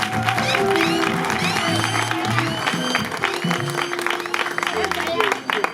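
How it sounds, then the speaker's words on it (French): Guests at a customary wedding clap in quick, uneven bursts while voices talk and call out over them, the applause blending with the lively crowd chatter close by. "Les applaudissements pour Papa Nelson."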